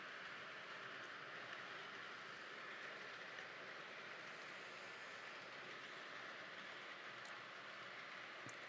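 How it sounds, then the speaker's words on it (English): A Thomas Kinkade Christmas model train locomotive with lights on its sides runs along its track. It makes a faint, steady whirring and rolling rattle that continues without a break, with no talking. "So what do you guys think about that locomotive with the lights on the side?"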